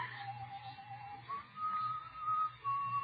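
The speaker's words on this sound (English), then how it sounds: "The whistling was somewhere in the building." Someone whistles a slow, simple tune in thin wavering notes, faint and somewhat distant, with a low hum in the background.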